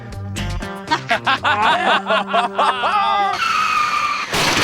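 A car with failed brakes skids amid smashed plywood and twisted metal in a staged urban destruction scene, a loud burst of tire squeal and scraping lasting several seconds before a final hiss of noise.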